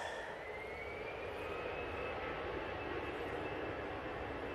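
An EasyJet jet airliner departing for Belfast produces a constant, fairly faint engine rumble with a thin whine that slowly rises in pitch, heard at some distance without talk.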